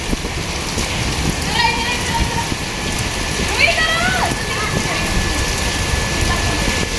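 Steady rain falls on a surface in an outdoor spot beside a wall, a continuous close hiss of drops with faint voices and small noises over it.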